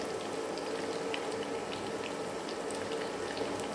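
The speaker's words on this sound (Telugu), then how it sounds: "బాగా కలర్ వచ్చే వరకు కూడా వేయించుకోవాలి" Continuous bubbling crackle of cashew and chicken pakoda deep-frying in hot oil, steady and moderately close with scattered small pops, and no talk.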